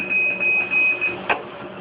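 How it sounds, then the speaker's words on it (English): A hemodialysis machine alarm beeps in a steady repeating high tone, close and clear, with a brief click near the end and no talking. "the machine is alarming, so I need to reset my machine"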